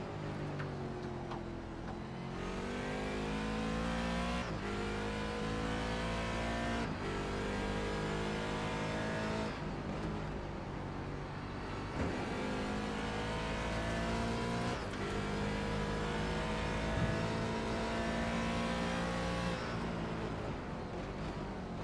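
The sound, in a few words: Mazda race cars going by at Zolder circuit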